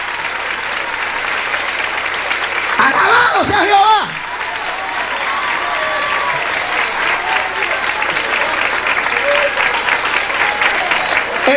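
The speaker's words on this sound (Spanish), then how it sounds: "Dale un aplauso al Señor" A church congregation applauds the Lord in sustained, steady applause with crowd murmur, while a voice shouts praise over it during the first seconds.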